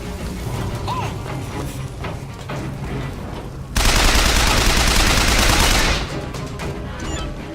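Gunfire in Bioshock Infinite on 1999 mode, a loud sustained burst of rapid shots for about two seconds amid ongoing mechanical clatter and game noise.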